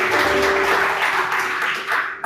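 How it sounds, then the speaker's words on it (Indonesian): A church congregation clapping together for Jesus, a dense, loud wash of applause from many hands that fills the space evenly and fades off abruptly at the end. "Berikan tepuk tangan buat Tuhan Yesus"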